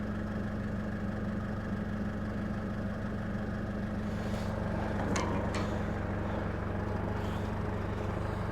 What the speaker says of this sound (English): I don't want to get in there with the engine running